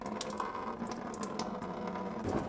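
Coolant trickles and splashes steadily from the small white drain petcock on a truck radiator, a soft continuous liquid flow heard close up with no talking over it.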